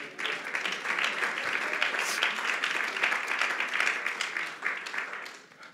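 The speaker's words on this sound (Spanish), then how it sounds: "Un aplauso a Cristo" A church congregation applauds steadily in praise of Christ during a Spanish-language sermon, a dense wash of clapping that holds for several seconds before tapering off.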